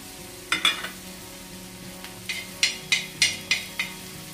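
Chopped onion and green chillies fry gently over low heat in a pan while being stirred, a soft sizzle running beneath a series of clear scraping clinks from the spoon, close by, with no talking.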